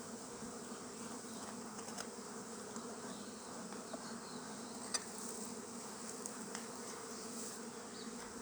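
Honeybees buzz around a beehive box in New Zealand: a steady, dense hum from many wings, close and continuous, with occasional louder passes from individual bees.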